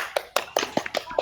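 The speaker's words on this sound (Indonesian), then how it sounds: "Tepuk tangan." A short burst of six quick, evenly spaced hand claps in a classroom, close and crisp, with no voices.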